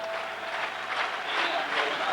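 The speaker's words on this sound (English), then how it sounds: "the record man leaves the field to great applause" Stadium crowd at a Denmark v England football match applauding as goalkeeper Peter Shilton leaves the field, a steady wash of clapping and cheering under a commentator's voice.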